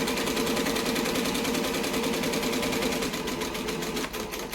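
A cylinder arm sewing machine stitches a business bag in a continuous rapid mechanical chatter, loud and close, running without pause for several seconds.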